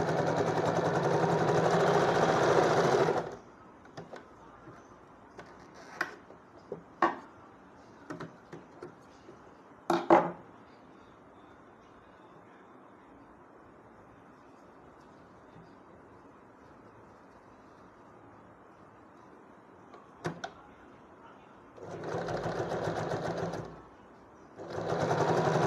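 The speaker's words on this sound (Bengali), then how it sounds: "1 ইঞ্চ রেখে ভাঁজের প্রান্ত থেকে 2 mm দূরত্বে সেলাই করা হয়" A sewing machine stitches a flat seam with top stitch on fabric: a loud, close, continuous whir at the start, a long quiet stretch with a few clicks, then another short burst of stitching near the end.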